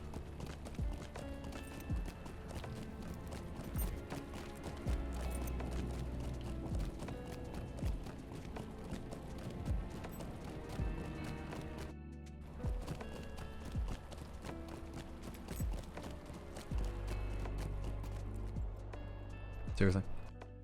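A horse mount's hoofbeats in a video game clip-clop in a steady, ongoing rhythm over game music and ambience, with someone talking over them.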